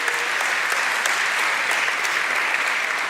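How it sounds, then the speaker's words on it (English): Sustained applause from an audience at a provincial government announcement of matric exam results in KwaZulu-Natal, a steady dense wash of clapping filling the whole stretch at close, even loudness. "May we all give the Peace Province of KwaZulu-Natal a big round of applause for this achievement."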